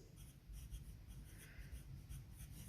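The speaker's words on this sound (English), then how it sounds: "So let's write that down." A pencil or pen scratches a handwritten sentence on paper, faint close-up continuous strokes and scratching with no speech.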